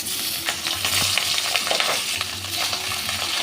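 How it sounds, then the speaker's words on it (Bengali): Oil sizzles and crackles steadily as catla fish fries in a pan, with occasional clinks and scrapes of a utensil. "এই পিঠটাও অল্প একটু ভেজে নেব"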